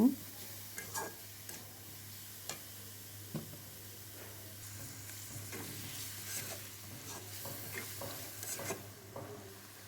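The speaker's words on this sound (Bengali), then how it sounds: "পেঁয়াজ কুচিগুলো ভালো মতো ভেজে নিব।" Chopped onions frying in a wok, with a steady low sizzle under repeated scraping and stirring clicks of a spatula against the pan, close and moderately loud, with no talking.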